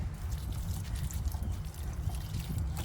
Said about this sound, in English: I'm still going to be giving them a little bit of water